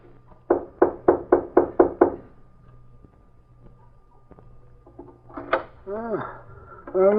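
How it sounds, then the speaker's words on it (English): Six sharp, evenly spaced knocks on a cabin door, close and loud, followed by quiet and then a few voiced sounds later on. "I'll knock."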